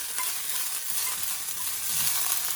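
Food seasoned with salt and pepper is stirred and tossed in a hot wok, producing a soft, continuous sizzle with faint scraping, fairly quiet and close, with nobody speaking.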